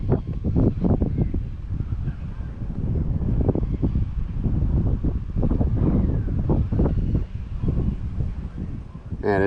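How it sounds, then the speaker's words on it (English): Strong wind buffets the microphone outdoors in steady low rumbling gusts, with a voice talking over it throughout. "Man, it is windy today."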